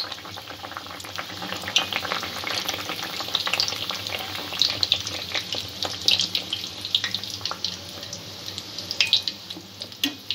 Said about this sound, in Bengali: একটু লাইট ব্রাউন করে ভেজে নিতে হবে ভাতুরাটা